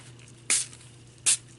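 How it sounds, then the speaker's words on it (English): Two short bursts of a water spray bottle misting onto a decoupage napkin, each a crisp hiss about three quarters of a second apart, close and alone over quiet room tone. "and then spray it lightly on the back."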